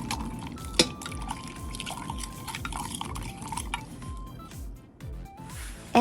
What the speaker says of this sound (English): And pour it in the pot where the chicken will be cooked